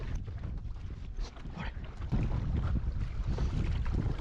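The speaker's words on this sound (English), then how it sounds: "Oh, it's wind." Wind blowing outdoors on open water while fishing for bass from a boat, a steady broadband rush of gusts against the microphone that grows louder partway through, with no talking.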